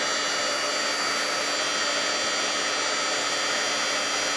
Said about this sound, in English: And let's grab a stick to hold it down with and pull over our heat gun